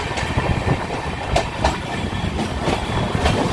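A train rolls past nearby, steady and loud, with wheels clicking over rail joints in a regular rhythm; the train is named as the New Alipurduar–Sealdah Kanchankanya Express, heard at a station.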